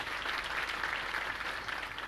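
Dense, even applause from a seated audience at a religious gathering, many hands clapping steadily without pause at moderate volume.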